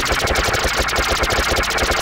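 A weapon in Garry's Mod fires in a rapid, steady automatic burst, loud and close, each shot cracking in quick, even succession throughout, with no voices.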